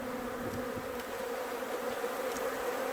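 Dense, steady drone of many honey bees buzzing at close range around an open hive during an inspection, with a heavy honey super on top; continuous and unbroken, no voices.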